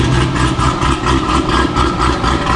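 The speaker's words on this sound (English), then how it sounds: "It does have like a valved exhaust" A car engine with a valved exhaust idles with a deep, throaty exhaust rumble, loud and steady with slight pulsing, close by.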